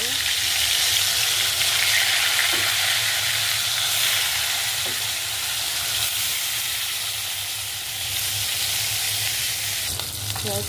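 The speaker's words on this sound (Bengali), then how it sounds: "মাছ ভাজার জন্য তেল গরম হয়ে গেছে, মাছটা ছেড়ে দিব।" Koi fish sizzle loudly in hot oil, a dense, even hiss of frying that continues close by for the whole stretch, with occasional stirring noises.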